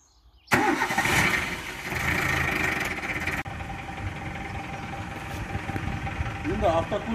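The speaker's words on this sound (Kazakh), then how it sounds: "Енді автокөлікті оталдырдық" A car engine cranks and catches in a sudden loud start during a daily maintenance check, settles into a steady idle, and a voice talks over the running engine.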